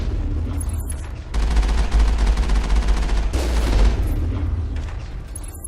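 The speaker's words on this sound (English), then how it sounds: "Mako's getting a bit of a pounding because of snipers." Sniper fire pounds the Mako armored vehicle in Mass Effect, a loud burst of heavy impacts and booms that starts abruptly after a quieter opening and runs for several seconds before easing.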